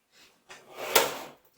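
A metal drawer of a Kennedy tool box slides open with a short rolling rumble that ends in a sharp clunk as it reaches its stop, heard alone and close.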